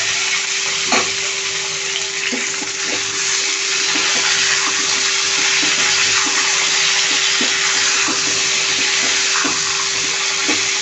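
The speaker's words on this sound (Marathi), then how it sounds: "ही वांगी तेलावरती फ्राय करून घ्यायची" Eggplant frying in hot oil with asafoetida and curry leaves, a steady loud sizzle throughout with occasional soft stirring clicks and no talking.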